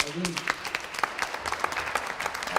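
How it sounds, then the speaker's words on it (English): An audience at a training class graduation breaks into a lively round of applause, sharp claps crowding together at close range with a little talk mixed in. "Give you all selves another round of applause"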